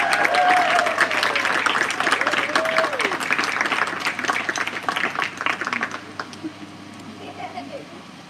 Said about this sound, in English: So one more bigger round of applause,